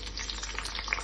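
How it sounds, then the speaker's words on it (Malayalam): Red shallots dropped into hot oil for tomato chutney after dried red chillies, a brief burst of bright crackling sizzle close up with some stirring, no voices. "ഇനി നമുക്ക് ചുവന്നുള്ളി ഇട്ട് കൊടുക്കാം"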